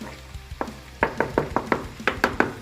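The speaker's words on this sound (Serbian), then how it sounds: "ubacit ćemo sitno seckano, u stvari ne toliko sitno, relativno sitno, seckano meso, koje će da se uprži u luku" Chopped meat fries with onion in a pan, a steady sizzle broken by a run of sharp, evenly spaced spatula knocks against the pan, close and moderately loud, with no talking.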